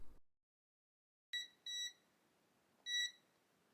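A SentrySafe fireproof, waterproof safe's keypad gives electronic feedback beeps: a short high tone, a second slightly longer beep, then a third after a pause, close and clear in an otherwise quiet room.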